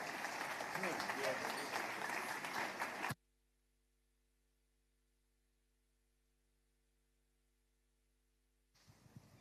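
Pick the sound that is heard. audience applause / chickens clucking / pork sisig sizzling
audience applause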